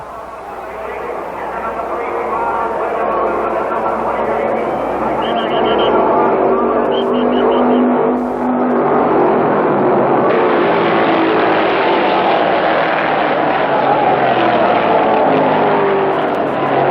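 Junior Johnson's race car roars at wide open throttle, a loud sustained engine howl that builds and holds at full power, mixed with crowd and track noise.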